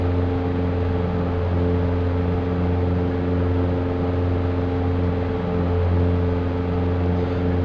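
Steady, loud light-aircraft engine drone during takeoff and climb, a continuous even hum with strong low tones throughout, no voices.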